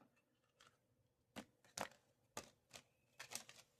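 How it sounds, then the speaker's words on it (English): Tarot cards being shuffled by hand, heard as a quiet, uneven run of short papery slaps and riffles spaced about half a second apart, with no talking. "That was the worst shuffle, good grief."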